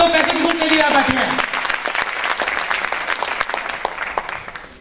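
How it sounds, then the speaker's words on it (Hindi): Loud applause from a business seminar audience on an Indian Independence Day event, dense clapping that starts under a fading voice, then carries alone and gradually thins out toward the end. "तो एक बार जोरदार तालियां इन लोगों के लिए जो पैसे की भूख के लिए बैठे हैं।"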